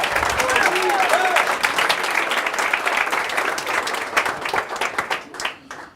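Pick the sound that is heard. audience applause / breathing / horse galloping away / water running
audience applause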